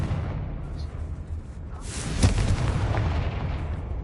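In the Hogwarts Legacy video game, a Confringo fire spell goes off with a sharp explosive burst midway through, followed by a rumbling boom that fades over a noisy, churning background of battle sounds.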